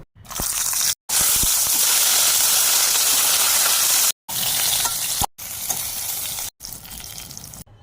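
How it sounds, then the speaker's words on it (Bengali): Eggplants fry in mustard oil in a wok, giving a loud, steady crackling sizzle that fills the clip, broken by a few short silent cuts. "কড়াইতে দেব সর্ষের তেল। প্রথমে আমি বেগুনগুলোকে হালকা করে একটু ভেজে নেব।"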